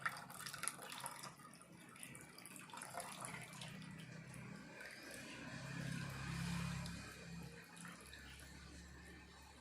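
Whey from chhena strains through a thin cloth into a bowl, a soft continuous trickle and splash of water that swells into a fuller pour in the second half before easing off.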